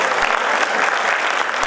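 Audience applause fills a poetry recital at a Hindi comic poetry gathering, a steady dense clapping throughout the short stretch with no voices over it.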